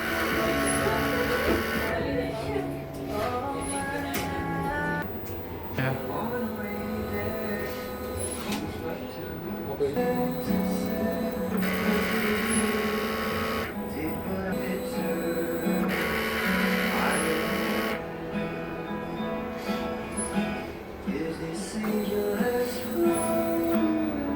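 A DTF printer runs a head-cleaning and nozzle-check routine beside a smoke purifier, its motors whirring and carriage shuttling in shifting mechanical bursts over a steady hum, while someone talks over the machinery.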